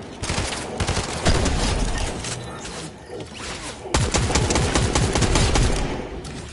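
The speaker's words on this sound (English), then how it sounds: "Oh, gunshots. Shots fired." Rapid bursts of automatic gunfire in the video game Fortnite crackle loudly and close, in dense volleys with a brief lull in the middle before firing resumes.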